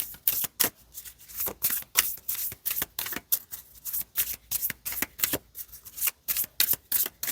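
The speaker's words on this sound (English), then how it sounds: "one more shuffle" Tarot cards being shuffled close up, a quick run of crisp riffling bursts, roughly two or three per second, repeating steadily with short gaps between them.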